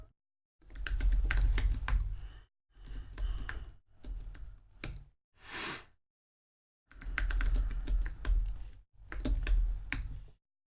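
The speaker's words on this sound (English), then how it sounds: "here I'll go ahead and just type out the regular es5 function here" Bursts of computer-keyboard typing while writing out a JavaScript ES5 function, with rapid close key clicks grouped into several runs separated by short pauses and no talking.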